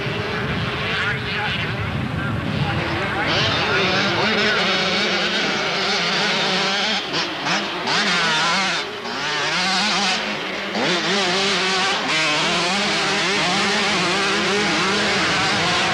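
Kawasaki and other motocross bikes race at the 1990 Bathurst King of Dirt event in New South Wales, their engines whining and revving loud and close, rising and falling through gear changes under steady commentary.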